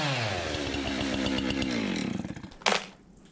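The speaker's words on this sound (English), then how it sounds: "I'm going to take my chainsaw and just cut it down at least halfway" A chainsaw cuts into a Douglas fir log in northern New York, its engine a loud, steady buzzing snarl that shifts pitch under load, then a brief sharp rev before it drops away.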